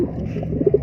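Pigeons cooing close by, a short burst of low, soft rolling coos rising toward the end, with no talking.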